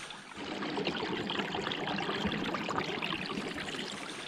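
Water trickles and flows in a wilderness stream in winter, a faint, continuous babbling wash with no other sounds over it.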